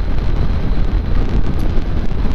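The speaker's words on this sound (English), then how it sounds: "Very windy. This is 68 miles an hour." Steady, heavy wind roar buffets the microphone throughout, a constant low rushing blast with no pauses, recorded riding a Honda NC700X motorcycle at 68 mph on an open highway.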